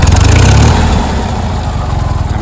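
A 1979 Fiat 126 engine idles after adjustment of idle speed and mixture, a loud, close, steady low chugging putter with a quick rhythmic pulse, slightly rougher at the start before settling.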